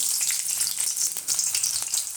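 Loud, close sizzling of onion hitting hot oil with mustard seeds in a kadai, a constant crackling hiss with no voices.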